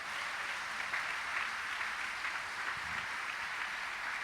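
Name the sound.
congregation applauding in church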